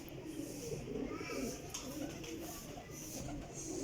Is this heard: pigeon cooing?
yes